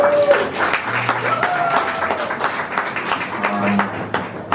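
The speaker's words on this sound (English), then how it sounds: "let's give a round of applause to Angelica" An audience at a community archive digitization panel applauds for a panel speaker, with steady, dense clapping throughout and some voices faintly mixed in.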